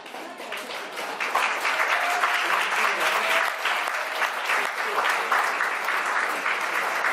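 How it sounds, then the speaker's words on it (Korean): A wedding audience applauds to welcome the bride, sustained clapping that swells after a softer start and stays full and even throughout, with a faint tone of music underneath. "큰 박수 부탁드리겠습니다."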